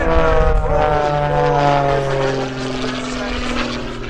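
An MX-S aerobatic propeller plane flies past at an airshow, its loud, buzzing engine drone rising and then easing as it goes by, while an announcer speaks over it.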